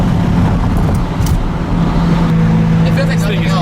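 Rough continuous engine roar from a V12-swapped Toyota Supra as it breaks its tires loose, loud and close from inside the cabin, with a deep steady drone rising slightly near the end.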